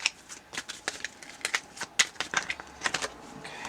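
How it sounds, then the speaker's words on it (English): Scuffed tarot cards, slightly too big for the hands, are shuffled close up, giving quick papery riffles and flicks in short bursts with no talking. "I've got them scuffed up enough that I can kind of shuffle them now."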